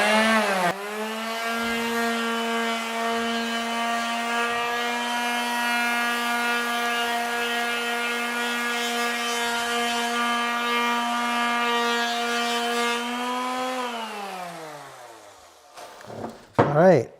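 A power sander works on a wooden table leg, its motor whining at a steady pitch for about fourteen seconds before spinning down, loud and near.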